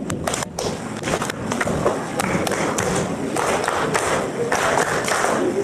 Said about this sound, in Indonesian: Coba semua yang hadir ini tepuk tangan,